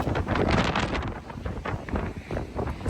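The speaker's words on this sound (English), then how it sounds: "it is windy woo. It really is windy woo." Strong winter storm wind gusting hard against the microphone and a Tesla car, loud rushing roar that surges and eases without pause.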